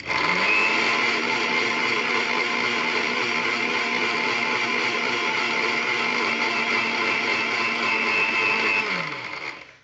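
A mixer grinder runs on its third speed setting with a loud, steady, high-pitched motor whine held for about nine seconds, then winding down at the end.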